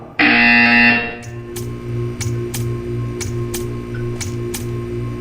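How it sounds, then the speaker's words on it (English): A harsh electronic buzzer in the video game Portal 2 sounds loudly for about a second, followed by a steady series of sharp ticking clicks over a low mechanical hum. "You will hear a buzzer. When you hear the buzzer, stare at the art."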